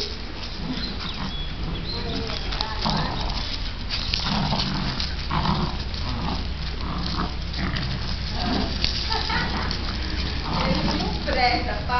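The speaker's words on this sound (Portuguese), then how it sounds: "A briga dos cachorros lá." Two dogs, one a pit bull, fight close by, with growls, snarls and yelps running throughout under continuous excited talk from people nearby.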